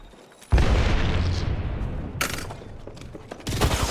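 Gunfire in Apex Legends breaks out as a sudden loud burst and rolls into a dense, rumbling fusillade. A second sharp volley cuts in partway through and another near the end, with no voices.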